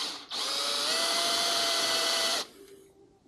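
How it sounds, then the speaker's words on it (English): A power drill with a 6mm bit bores a hole through a bike frame for a torque sensor bottom bracket, a steady high whine lasting about two seconds after a brief start, close and loud, then stopping. "If we start with, say, a 6mm drill, to make it a bit easier for when we go to the 10mm."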